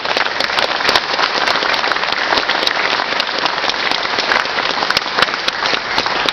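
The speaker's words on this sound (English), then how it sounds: "I'll give these guys a round of applause." Sustained applause from a crowd at a train collectors' meet, honoring military veterans; dense, even clapping throughout at a steady level, with no talk over it.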